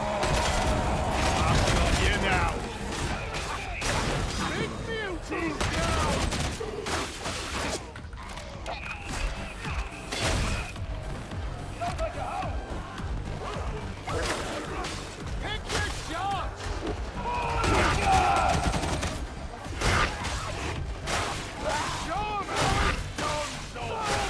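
Gunfire from a video game weapon crackles in repeated bursts and bangs, with clanking mechanical noise in between. Someone talks over much of it.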